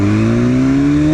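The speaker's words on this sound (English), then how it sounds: "I feel I can hear the engine a lot clearer now" A motorcycle engine revs steadily and loud up close, its pitch climbing smoothly as the throttle opens, with no one talking.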